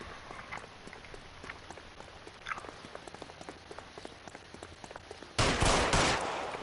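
Gunshots in L.A. Noire sound as a string of sharp, quiet, evenly spaced pops, followed by a sudden loud noisy burst near the end.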